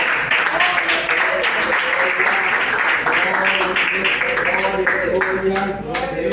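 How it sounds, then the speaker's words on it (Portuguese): Congregation clapping along during a church sermon, a dense steady patter of many hands filling the room, with cheerful voices and tonal background sound running underneath throughout. "bater as palmas bem alegre para Jesus"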